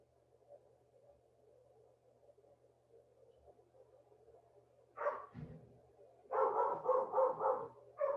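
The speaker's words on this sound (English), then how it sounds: "I apologize if you can hear my dog." A dog barks in a quick series of sharp woofs after a few seconds of low steady hum, fairly close and prominent, during an online orientation call.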